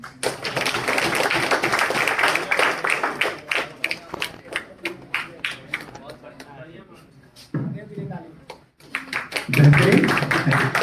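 An audience at a Hindi Day celebration at RTC Institute of Technology in Ranchi claps in a dense, even burst that thins out over several seconds, and a single spoken word comes in near the start.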